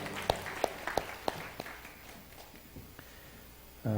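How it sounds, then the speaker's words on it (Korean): A church congregation gives encouraging applause at a Sunday afternoon service, several distinct sharp claps at first that thin into faint scattered clapping, followed by a louder low sound at the end. "우리 67 남성교회도 격려의 박수 부탁드리겠습니다"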